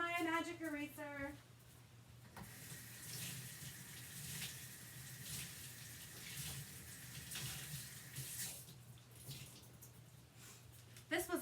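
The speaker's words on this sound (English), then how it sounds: "Let me rinse my magic eraser." Tap water runs and splashes as a magic eraser is rinsed beneath it, a steady close rush after a voice hums briefly at the start.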